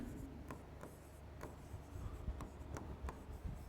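Chalk or marker scratching out a sentence on a classroom board in short repeated strokes and taps, close and steady, with no talk over it.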